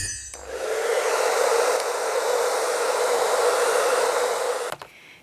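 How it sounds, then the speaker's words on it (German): A hair dryer blows hot air to dry paint on a handmade cosplay wand, a loud, steady whoosh that starts abruptly and runs for several seconds before switching off. "Und schon ist wieder Zeit für die nächste Runde Föhn."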